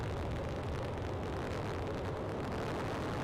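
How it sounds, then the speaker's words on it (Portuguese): A deep, continuous roaring rumble, loud and steady, from a SpaceX spacecraft exploding after its third launch, heard at a distance, with no voices. "Vou deixar ouvir esta explosão."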